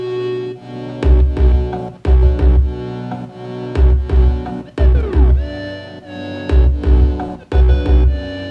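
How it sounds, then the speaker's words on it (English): Bass line from an Ableton beat plays alongside a sample, with deep thumping bass notes in a choppy, rhythmic pattern under sustained tonal layers, loud and upfront with short gaps between phrases and no voices. "now in context, if I play the bass line with the sample"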